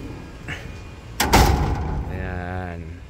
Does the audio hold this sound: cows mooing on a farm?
no